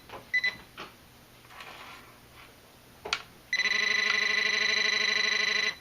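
Garrett TRX pinpointer metal detector switching on: a few faint clicks and handling knocks, then a loud, steady electronic tone that holds continuously to the end.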